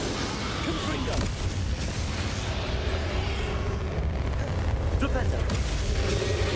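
A Confringo fire spell bursts during a Hogwarts Legacy final boss battle against Ranrock, a dense, loud rumbling blast sustained under continuous game noise and voices.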